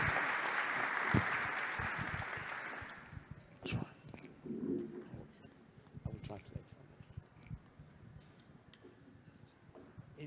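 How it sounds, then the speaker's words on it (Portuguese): Audience applause at a foreign-trade workshop in Aparecida de Goiânia, welcoming Ghana's ambassador, is heard as a faint, distant wash of clapping for about three seconds before dying away into quiet room noise with scattered clicks. "queria que nós recebêssemos com uma grande salva de palmas a embaixadora de Gana, a Abena"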